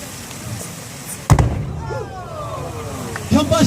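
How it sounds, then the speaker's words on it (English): An explosion from a combustion science demonstration, a sharp, loud bang followed a couple of seconds later by a second burst, with voices murmuring around it. "A big explosion"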